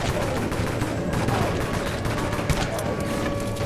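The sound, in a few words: gunfire shooting zombie horde in video game Dead Frontier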